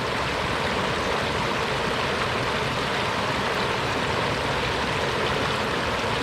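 Water runs steadily into a metal container dipped in a sediment-laden creek, a constant broadband rushing and gurgling, close and even throughout with no voices.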